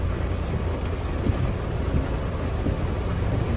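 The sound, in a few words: rain falling outdoors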